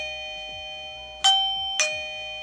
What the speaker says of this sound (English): There's the chime there, and it will give you guys a notification on the actual app.